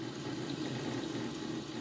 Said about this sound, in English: Now if you listen, you can hear the pump.